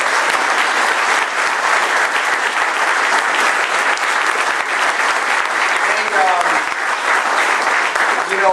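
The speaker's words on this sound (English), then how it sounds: "Please give them a round of applause." An audience at a Green Energy Act launch event breaks into sustained, loud applause, a dense unbroken clatter of many hands that continues throughout.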